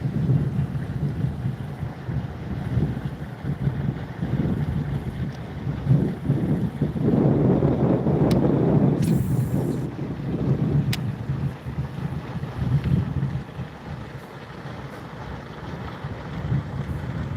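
Wind buffeting a microphone while fishing for bass from a boat on open water, a steady low rumbling roar with gusts swelling and easing over many seconds and occasional faint knocks.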